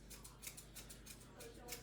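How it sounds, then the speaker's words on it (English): Scissors snip through a dog's hair during grooming, several quick, faint crisp cuts close to the microphone in a short, uneven sequence. "I'm just going to come in, scissors straight up."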